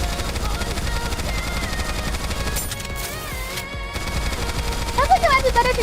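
Rapid gunfire in the mobile shooter game NIKKE runs as a dense, steady stream of shots, with game effects and music layered over it and a brief burst of brighter sounds near the end.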